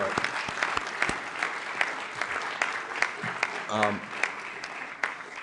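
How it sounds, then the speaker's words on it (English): Applause from an audience at an arts leadership breakfast meeting, a moderate wash of clapping with scattered sharper claps standing out, heard at some distance in a large room, with a brief voice breaking through partway. "everybody give Jane Chu and Jason Schupak a big round of applause for their support."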